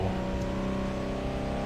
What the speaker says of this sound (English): if you go in reverse, you hear the engine pretty good there when you do that